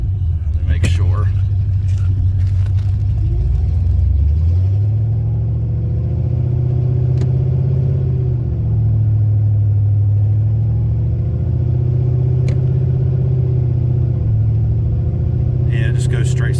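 A car with a Ford AOD automatic transmission that won't shift into second gear, driven on a test run: loud low engine rumble that rises and settles as the revs change, with cabin noise and a little talk.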